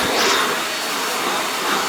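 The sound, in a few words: Shark Navigator NV22L upright vacuum cleaner running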